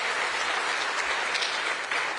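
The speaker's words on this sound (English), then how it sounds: "Let's give Mac Parnell and the Georgia Faith and Freedom Coalition a round of applause" A round of applause from a crowd at a political rally, a dense, steady wash of clapping that holds evenly throughout without speech.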